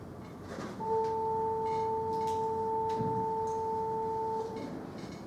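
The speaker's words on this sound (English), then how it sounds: "if you combine this tone with this overtone" Two steady pure sine tones sound together, a fundamental with its overtone summed into one sustained, even electronic hum of about four seconds, alone with faint room noise around it.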